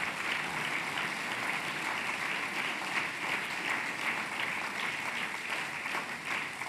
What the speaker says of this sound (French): que je voudrais vous demander de remercier par vos applaudissements